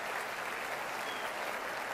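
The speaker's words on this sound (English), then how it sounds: "Why was Jeff Gordon's applause longer than Jimmy Johnson's applause?" A banquet hall crowd at the 2013 NASCAR Sprint Cup Awards Banquet applauds Jeff Gordon with dense, steady clapping that holds an even level throughout, with no voices over it.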